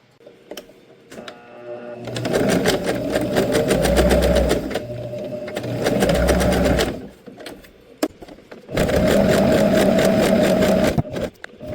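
A home sewing machine stitches in bursts, running for a few seconds at a time with rapid mechanical whirring and clatter, separated by brief pauses with light handling noises.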